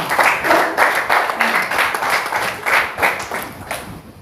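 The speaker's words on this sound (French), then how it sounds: "Applaudissons pour le Seigneur." A church congregation claps in praise during a worship service, rhythmic applause coming in even waves for several seconds, loud and close.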